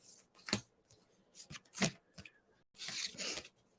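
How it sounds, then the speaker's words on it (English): A deck of cards is shuffled up close in a series of brisk riffling and rubbing bursts, with short pauses between them and a longer riffle at the end. "I'm not the best at shuffling cards sometimes"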